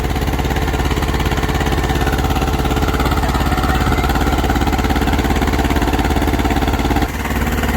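A tractor pulling a harrow at full load in second gear gives a loud, steady, close engine drone with a fast even chug throughout, briefly dipping near the end.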